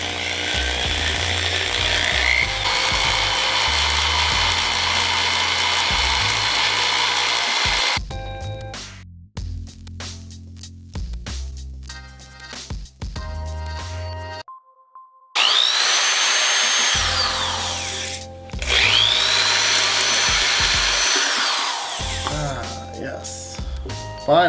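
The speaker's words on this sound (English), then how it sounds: "hopefully I'll be able to drill through it" Power drill with a small metal bit grinding into a steel fork: loud, harsh whining bursts that stop and restart, with a stretch of stuttering, ratcheting bites in the middle before the drill runs hard again.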